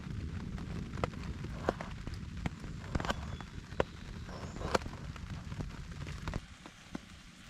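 Rain patters steadily on a tarp stretched over an outdoor camp with a wood stove, a dense, continuous drumming broken by sharper, louder drops at irregular moments.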